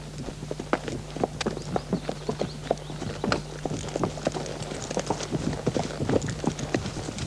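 Horses trotting during a riding lesson, with brisk, steady clip-clop hoofbeats repeating close by throughout.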